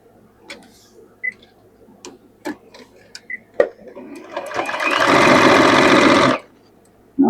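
A sewing machine stitches a seam on a dress being remade, with short clicks and taps first, then a loud, steady whirring run of about two seconds that stops abruptly.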